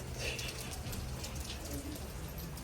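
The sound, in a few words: rain falling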